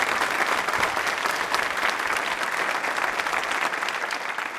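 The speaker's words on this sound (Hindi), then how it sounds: "तालियां बजाइए जोरों से" A crowd at a university quiz show breaks into loud, sustained clapping, a thick continuous roar of many hands that stays steady throughout with no voices on top.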